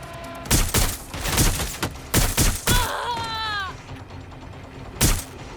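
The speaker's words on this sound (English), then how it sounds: "Shots fired!" Gunshots in Watch Dogs Legion during a police standoff: several sharp, loud bursts of fire spaced irregularly, close by, with a brief meowing cat-like cry in the middle and no talk.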